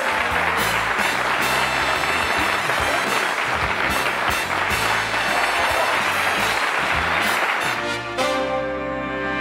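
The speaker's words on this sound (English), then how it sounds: "I'm humbled by that applause." Sustained, loud applause from a studio audience at a 1982 late-night talk show, dense clapping filling the room continuously before easing off near the end.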